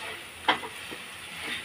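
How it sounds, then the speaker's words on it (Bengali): Potatoes frying in a pan give a soft, steady sizzle with one brief stirring scrape. The sound is quiet and close, with no voices. "আলু ভাজাটা বসিয়ে দিয়েছি"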